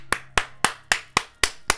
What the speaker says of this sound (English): And when it ends, I'll still clap.